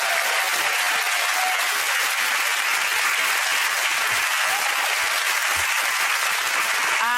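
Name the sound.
studio audience applause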